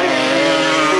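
Grasstrack motorcycles racing up to the pit bend on the final lap at a 1991 meeting, a loud, sustained engine roar close by with no break.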